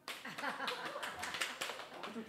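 A group clapping in rhythmic bursts during a numbered clapping game at a church teachers' gathering, with voices and laughter mixed in throughout.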